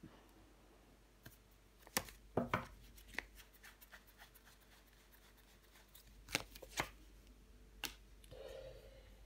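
Tarot cards being handled and laid out on a table, with soft slaps and flicks spaced apart in a quiet room and a brief shuffling rustle near the end.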